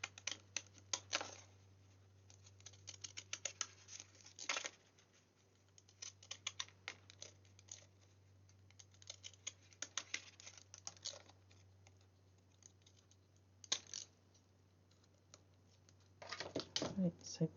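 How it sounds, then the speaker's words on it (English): Fancy-edged scissors snip around an oval of card, a string of close, small crisp cuts in uneven bursts with pauses between, over a low steady hum. "with fancy scissors, and I'm using my oval as a guide to cut round."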